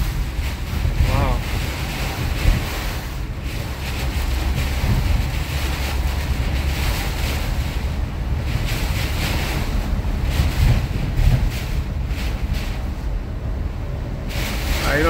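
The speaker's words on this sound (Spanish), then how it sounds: "el viento está soplando fuerte" Strong storm wind buffets the microphone on Highway 225 in La Porte, Texas, a loud continuous rushing roar with gusty surges throughout.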